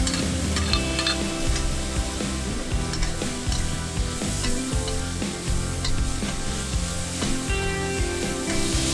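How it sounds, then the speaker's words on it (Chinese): Green beans and a bowl of prepared sauce stir-fried in a hot wok, a loud continuous sizzle broken by repeated scraping and tossing of the spatula, close up and without talk. "倒入备好的碗汁儿， 再加入豆角，翻炒均匀"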